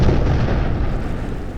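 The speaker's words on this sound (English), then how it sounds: "the torpedo slammed into the Caribou's starboard side, detonating with a deafening explosion" A torpedo strikes the starboard hull of the passenger ferry SS Caribou in cold Atlantic waters. A loud, dense explosive roar fills the moment and rumbles on briefly.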